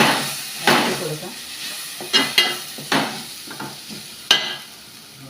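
Ground coriander is stirred in a pan for a chickpea curry, giving a handful of spaced, close scraping strokes over a quiet sizzle.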